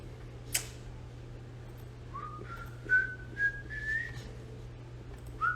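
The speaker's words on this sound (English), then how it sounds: "No, I'm whistling" A person whistles a short, wavering tune alone, the notes sliding and rising, with a faint steady hum behind it.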